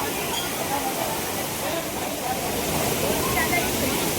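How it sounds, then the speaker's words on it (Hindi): A waterfall near the Jatmai temple in Gariyaband rushes in a steady, dense hiss of falling water, fairly loud and unbroken, with voices faintly mixed underneath. "बहुत ही प्यारा झरना बहा थे"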